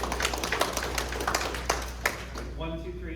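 An audience at a lecture on the Franklin County economic outlook breaks into brief scattered clapping, a cluster of sharp claps fading within a couple of seconds, followed by someone speaking.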